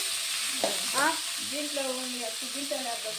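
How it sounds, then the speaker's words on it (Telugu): Tomatoes frying in oil in a pan for a tomato and red chilli chutney, a steady close sizzle with stirring scrapes, and a voice talking over it. "ఇంక ఇప్పుడైతే దాంట్లోనే అయితే టమాటాలు వేయించుకోవాలి."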